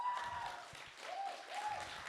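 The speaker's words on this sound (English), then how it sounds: "should we give Tokyo a big round of applause?" An audience applauds the Tokyo team at a sports policy dialogue and demo day, a steady, fairly faint patter of clapping from a crowd.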